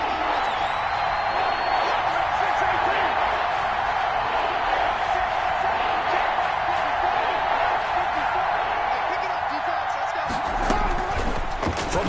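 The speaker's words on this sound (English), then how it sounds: "the crowd getting into it as we come up on a big 3rd down" A football stadium crowd roars in a dense, sustained wall of cheering ahead of a big third down, steady and loud throughout with a slight shift near the end.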